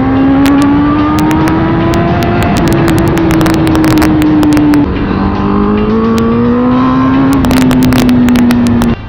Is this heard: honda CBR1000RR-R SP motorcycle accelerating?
yes